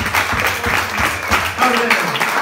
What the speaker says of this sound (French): Acclamons tout le monde.